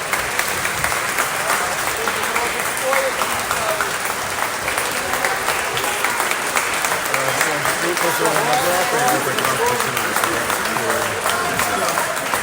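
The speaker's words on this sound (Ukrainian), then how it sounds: "Це такими аплодисментами зала зустрічає Шмигаля." Sustained applause from a large crowd fills Ukraine's parliament hall, dense and continuous, with voices faintly mixed in beneath the clapping.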